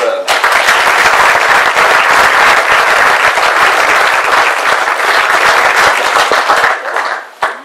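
A theatre audience at an amateur stage play applauds its author, a dense, loud, sustained clapping that holds for about seven seconds before tapering off at the end.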